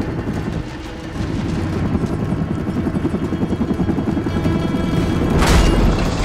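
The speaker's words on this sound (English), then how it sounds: "Chopper incoming." In the video game Army of Two: The Devil's Cartel, a helicopter approaches with a steady, loud rotor thrum. Gunfire and booming bursts are mixed in, and the rotor noise swells toward the end.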